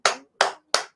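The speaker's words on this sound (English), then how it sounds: "I'll give a round of applause for that." Three sharp, separate hand claps, evenly spaced and close, each ringing briefly before silence.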